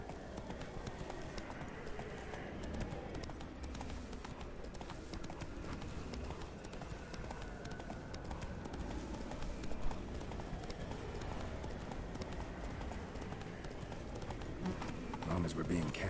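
Roach the horse from The Witcher 3 gallops with fast, continuous hoofbeats under steady game ambience, while voices talk over the running throughout.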